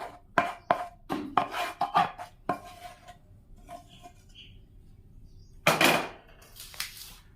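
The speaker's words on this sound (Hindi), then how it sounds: "और इस तरह से मिक्स कर देते हैं।" Moong dal laddoo mixture with fenugreek and edible gum being stirred and pressed in a pan, giving a run of close scraping and clinking strokes, a quiet pause, then a brief louder scrape near the end.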